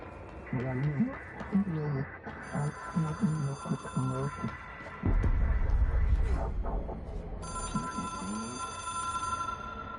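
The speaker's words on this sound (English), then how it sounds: "It is a phone." In the video game Control, a telephone rings with electronic tonal rings, first under a person talking and then more clearly alone, against game effects and a deep rumble.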